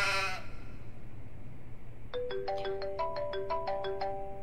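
A mobile phone ringtone plays a bright melodic pattern of repeated notes that begins partway through and keeps cycling over a quiet room, after a short burst of sound at the start.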